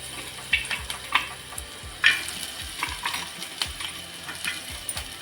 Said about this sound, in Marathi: सुकं खोबरं आपल्याला छान असं याच्यामध्ये एकदम मस्त असं भाजून घ्यायचं आहे